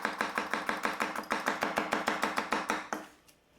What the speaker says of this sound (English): we'll chop the next one with a pinch grip instead of a racket grip as I was doing before